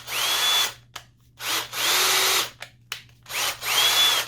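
A cordless drill freshly repaired with a new trigger switch, run in three bursts of high whine separated by brief pauses and clicks, close and clear with no talking.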